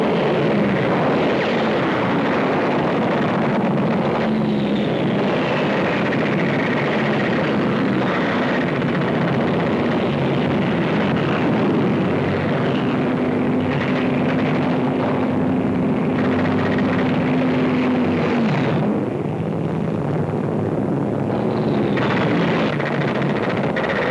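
WWII fighter and transport aircraft in combat: a dense, continuous roar of aircraft engines with a steady drone, loud throughout, with a faint whining tone drifting in the middle.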